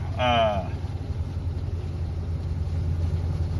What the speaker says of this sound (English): Got the car started.